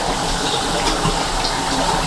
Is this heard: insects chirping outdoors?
no